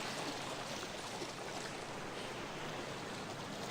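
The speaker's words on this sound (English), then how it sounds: "The ocean waves are pretty loud in my headphones." Loud ocean waves on a shoreline during a night walk, a steady, dense roar of surf close by with no talking.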